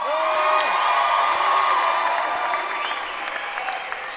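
Steady applause from a large crowd with cheers and whoops mixed in, loud and sustained throughout.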